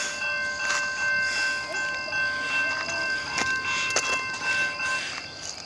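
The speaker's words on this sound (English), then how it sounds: "Amtrak 59 is coming." Amtrak 59 passenger train, led by locomotive 67, passes close to trackside with a sustained multi-tone horn blast over rolling wheel noise and a few sharp metallic clanks.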